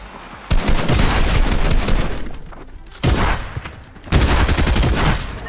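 Rapid SMG bursts in Fortnite, loud and close, with dense automatic fire in three runs separated by brief lulls and thuds.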